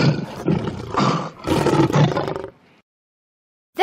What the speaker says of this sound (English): They're lions or tigers.